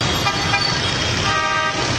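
Car horn honking amid road traffic, a steady toot held over the low rumble of engines and passing vehicles, moderately loud with no talk.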